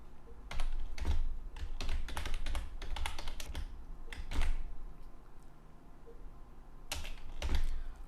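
Typing on a computer keyboard comes in close bursts of rapid key clicks separated by short pauses, with no talking.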